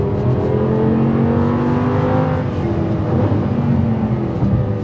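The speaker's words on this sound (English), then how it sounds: "I just can't get over how throttle responsive the engine is at low revs." An Audi R8 LMX's V10 engine revs loudly and continuously from the cabin, its rich, layered note rising and falling as the throttle is worked, with a steady road roar underneath.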